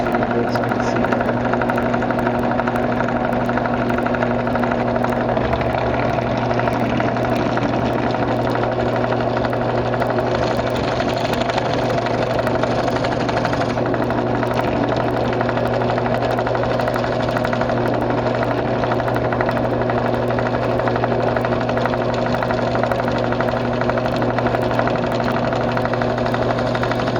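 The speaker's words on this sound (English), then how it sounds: "This is a 1/4 inch drill bit I'm running" Power drill running a 1/4 inch bit into a Saiga rifle forend, a loud continuous motor whine with steady harmonic hum and rough grinding texture, close up, lasting throughout without pause.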